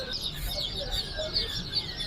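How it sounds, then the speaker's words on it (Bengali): Muscovy ducklings peeping in a busy, continuous chorus of high chirps at a market, close by and steady throughout. "চীনা হাঁসের বাচ্চা হ্যাঁ ভাই এটা চীনা হাঁসের"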